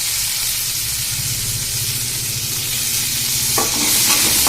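Onions and tomatoes fry in a hot pan while being stirred, giving a steady sizzle and hiss with soft scraping, and the frying grows a little brighter and louder near the end.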